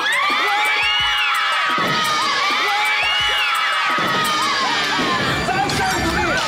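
Elementary school children on a kids' game show shouting, whooping and cheering loudly, a dense excited crowd with shrill voices rising and falling, continuous and close.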